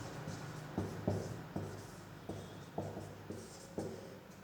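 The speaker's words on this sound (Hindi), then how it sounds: "मैं नोट ये लिख रहा हूं" A pen scratches out notes by hand on paper in a quiet room during a chemistry lesson, with short strokes and taps at an irregular pace and no talking.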